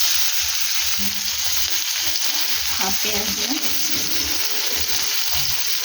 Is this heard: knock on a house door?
no